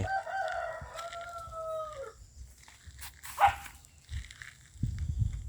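A rooster crows near the start, a drawn-out call with rising and falling pitch, followed by scattered clucks and rustling farmyard noises.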